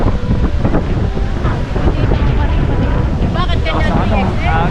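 Gusty outdoor wind buffets the microphone with loud, continuous low rumbling, while people chat nearby underneath the noise.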